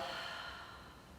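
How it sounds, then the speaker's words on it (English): A single long, soft exhale through an open mouth during a guided breathing exercise, a breathy airy rush that slowly fades over about a second, heard close with no talking. "Open mouth, exhale."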